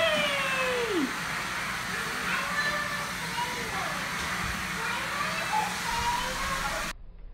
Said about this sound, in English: Vacuuming is so much fun.